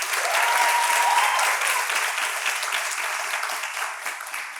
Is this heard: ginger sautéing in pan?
no